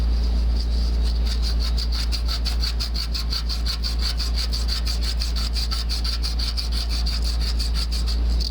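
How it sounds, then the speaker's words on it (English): Sanding a surface during HVAC work, heard as a loud, close, rhythmic back-and-forth rasping with fast even strokes over a low steady hum, continuous throughout. "We'll get it sanded up real nice and then cut it loose."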